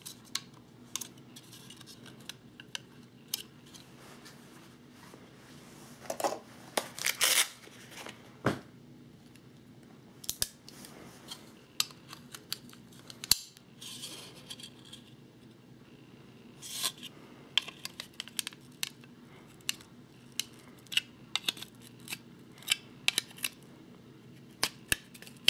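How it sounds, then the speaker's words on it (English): Heat shield being pulled out of an AR-15 handguard with a multi-tool, quiet scraping, clicking and rubbing metal noises in irregular bursts, close by, with no talk. "And gonna pull our heat shield out of here."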